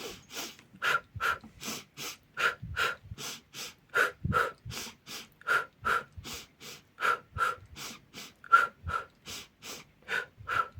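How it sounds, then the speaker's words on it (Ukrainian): A children's ensemble group doing a breathing exercise, two inhales through the nose then two exhales through the mouth: about two dozen sharp, evenly spaced breaths in a steady pulsing rhythm, close and moderately quiet. "Беремо два рази вдох через нос і два рази видиха через рот робимо"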